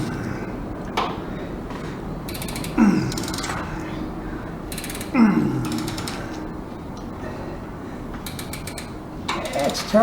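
A wrench turns a nut on the A-arm of an S10 truck, giving repeated bursts of ratcheting clicks spaced a few seconds apart, with metallic squeaks and clunks against a quiet background.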